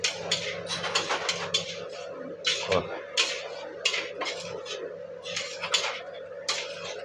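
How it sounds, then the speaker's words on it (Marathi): Poha being stirred into the hot tempering in a pan for kanda pohe, with repeated scraping and clinking of a metal spoon against the pan in an uneven rhythm over a low background hum. "हे छान पद्धतीनं आता हे पोहे फोडणीमध्ये मिक्स करून घेतले जातील"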